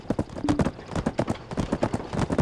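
Horse hooves clip-clop in a quick, steady gallop rhythm inside the game Black Desert Online, close and clear with no talk over them.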